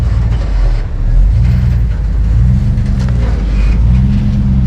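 A 4x4 off-road rig's engine labours loudly up close while climbing a rock V-notch on a desert trail at Lake Havasu, Arizona, a continuous deep rumble rising and falling with throttle.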